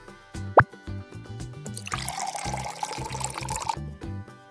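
Clothes being soaked in lime fabric paint diluted with water, with a sharp plop followed by sloshing, dripping liquid sounds, close and fairly quiet.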